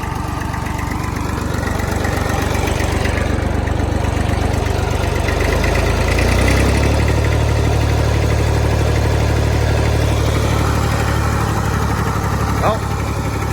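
A Ford Super Dexta tractor engine, started off a jump box, runs with a steady low chugging idle close by. Its pitch shifts partway through, and a voice speaks briefly over it.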